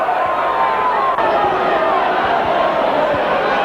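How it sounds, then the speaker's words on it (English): A massive rugby league crowd at a Wigan versus Leeds cup match produces a dense, loud, continuous roar and buzz, with a commentator's voice faintly mixed into the din. "there's a great buzz going around this massive crowd"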